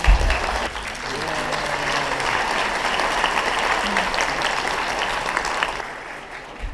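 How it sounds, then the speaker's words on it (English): Guests at the One World annual luncheon clap together in a dense, steady round of applause with a few voices mixed in, fading out near the end. "if we can just have a round of applause for each of us being here"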